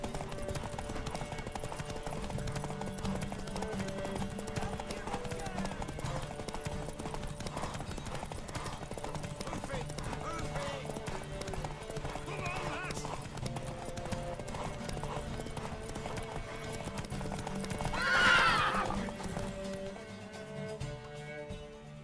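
Steady hooves clip-clop at a trot, close by, and a horse whinnies loudly near the end, in The Witcher 3 video game.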